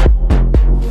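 Brassy synth patch in the initial drop of an electronic track, three short punchy stabs over a thick, loud sub-bass drone, under a second long.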